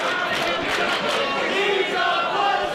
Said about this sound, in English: the crowd's chanting here tonight